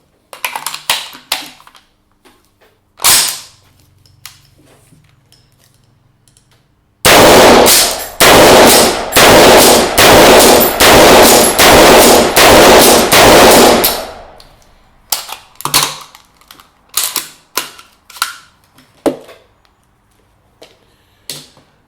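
Rapid gunfire from a Southern Gun Company .308 lever release rifle, a loud dense burst of shots fired in quick succession, preceded and followed by sparse single cracks and mechanical clacks.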